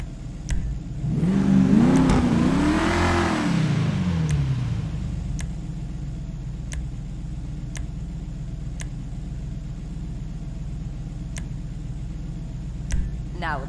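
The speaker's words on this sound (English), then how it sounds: "Now that's some kind of engine." A rising, revving car engine from an Enus Paragon S in a video game swells loud for a few seconds, then settles into a steady idle hum with faint periodic ticks.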